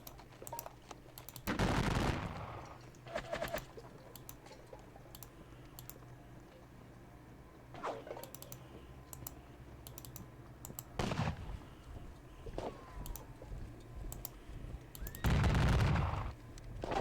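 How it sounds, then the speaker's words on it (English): Gunfire in a turn-based wargame battle around Salamanca, with a few loud bursts of shots at intervals against a steady low background hum, some sharper clicks scattered between them. "Let us shoot the bigger battalion."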